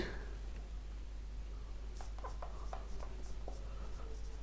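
Writing on a board during a Hindi three-dimensional geometry lecture: a run of light scratchy strokes and small taps in the second half, steady and close, over a constant low hum.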